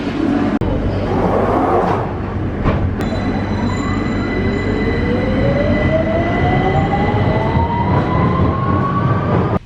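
London Underground train at Green Park station: a loud, steady rumble of wheels on rails, with rising whining tones as it moves and a few sharp clicks, heard from inside the train.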